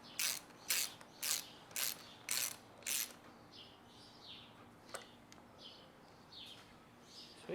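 A 10mm socket ratchet backs out anode bolts on an outboard motor: six quick ratcheting bursts, close and crisp, followed by softer intermittent clicks and light metallic handling, with no talk.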